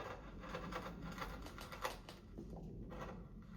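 A small carving gouge cuts a pocket hole into wood, tearing fibres as it goes. Quick, close, rhythmic tapping and scraping cuts repeat steadily at low volume.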